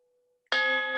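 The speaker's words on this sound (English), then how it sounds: "it's a meditation bell" A meditation bell played from a phone app strikes once after a faint hum, ringing with a bright metallic onset and sustained clear tones that hold steadily to the end.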